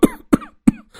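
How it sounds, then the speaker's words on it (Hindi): A man in a home coughs three times in quick, evenly spaced, fairly loud bursts, with short pauses between them and no talking. "घर में उसके ससुर आते हैं जो बहू को देखकर खांसने लगते हैं।"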